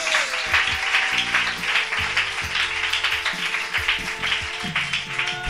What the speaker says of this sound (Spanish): Allá palmas a Dios.